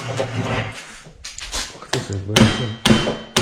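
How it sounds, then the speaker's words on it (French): Several sharp metallic hammer taps at irregular intervals, nearby, during a KTM 250 EXC engine rebuild, over a busy background with faint voices. "Il y en a qui viennent ici et qui te tapent au marteau."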